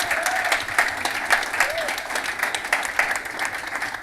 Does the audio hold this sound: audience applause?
yes